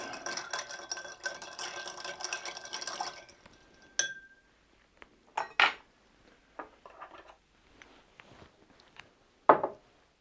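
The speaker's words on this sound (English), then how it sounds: "We're going to give that a good stir. We need some dilution from the ice" Ice rattles steadily in a glass as a scotch and honey cocktail is stirred, then stops, leaving a few scattered clinks and taps of glassware and a bar spoon.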